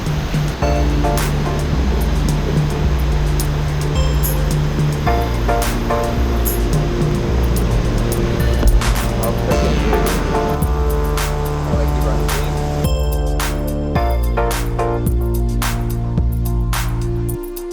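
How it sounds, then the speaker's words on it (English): A waterfall on a tributary of the Fox River pours in a steady, loud broadband rush that continues unbroken, with sustained tonal layers shifting over it. "There's a waterfall over there. I can hear it."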